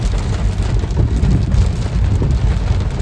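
Heavy rain pours steadily and loudly, a dense continuous roar with no voices.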